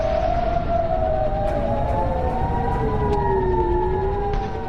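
Wailing war air-raid sirens in the Gulf countries sound loudly and continuously, several overlapping tones rising and falling slowly at once.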